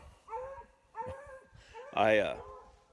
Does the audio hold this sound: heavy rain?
no